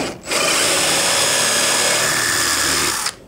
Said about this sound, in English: I drill that out,